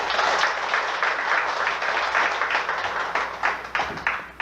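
A church congregation at a Sunday morning worship service applauding together, dense sustained clapping that fills the room and thins toward the end into scattered claps.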